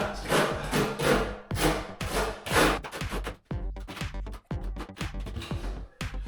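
A notched 10 mm trowel scrapes and spreads tile adhesive during bathroom wall and floor tiling, giving repeated close, gritty rubbing strokes in an irregular rhythm with brief pauses between passes.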